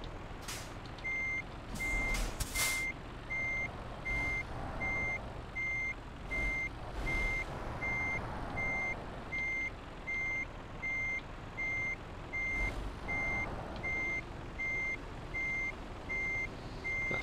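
Reversing beeps from a truck in Euro Truck Simulator 2, a steady evenly spaced series of high tones repeating throughout over a quiet engine hum, with occasional brief hiss bursts like air brakes.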